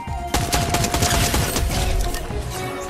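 Rapid automatic gunfire in a video game, a dense burst of repeated cracking shots lasting a few seconds, loud and close with no talk over it.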